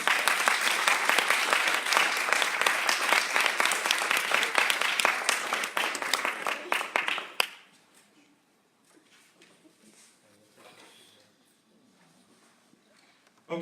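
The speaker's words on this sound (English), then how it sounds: "let's have another round of applause for our speakers" Audience applause for speakers at a medical college storytelling event, a dense burst of many hands clapping for about seven seconds before cutting off abruptly into near silence with faint room noise.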